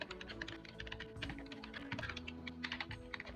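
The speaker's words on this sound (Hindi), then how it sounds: "इसमें टाइप कर देता हूँ मैं स्कूल का एड्रेस।" Someone types a school address into an Excel spreadsheet on a computer keyboard, producing rapid, uneven, close clicking keystrokes that run continuously and fairly quietly throughout, with no talk.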